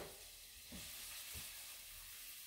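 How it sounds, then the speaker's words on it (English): Onions fry in hot oil for a quick marinara-style sauce, giving a quiet, steady sizzle. Soft stirring scrapes come through now and then, and a sudden clunk ends the sound. "I've already got the oil up to temp, and we're gonna add some onions."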